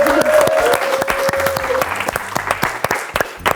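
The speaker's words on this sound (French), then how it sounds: "On peut l'applaudir." Lively applause from a small studio audience, crisp individual claps forming a brisk patter, close and loud, with a brief tonal whistle-like sound early and some voices underneath.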